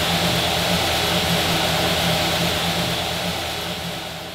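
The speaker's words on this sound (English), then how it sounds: "As long as the engine's idling smooth, the vacuum's not all over the place, and the idle RPM didn't change much" A car engine idling after a Gen4 EFI setup, a steady low hum and whir holding an even level throughout, then easing slightly toward the end, with no voices.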